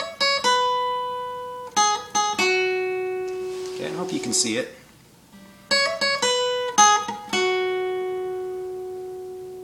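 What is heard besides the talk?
guitar picking pattern from a song, played slowly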